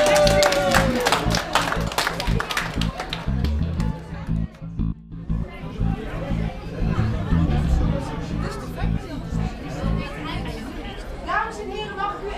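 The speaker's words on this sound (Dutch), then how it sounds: "Applaus!" Applause and lively crowd chatter fill a crowded restaurant foyer where diners wait during a fire brigade visit. Clapping rises at the start, dips, then continues as a dense hubbub with voices throughout.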